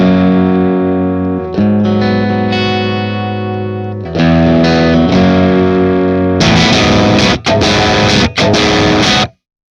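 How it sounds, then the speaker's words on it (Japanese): Electric guitar through a London Fuzz pedal with aggressive, rough fuzz distortion: sustained notes at first, then loud, dense strummed chords with brief choked gaps before an abrupt stop, no voices. "このロンドンファズかなり攻撃的というか荒っぽい音で、ヴィンテージっぽさとは真逆のバキッとしたサウンドですね。"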